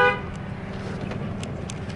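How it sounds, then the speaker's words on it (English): A car horn gives a short toot right at the start, then traffic and engine noise carry on steadily in the background. "who's honking at me?"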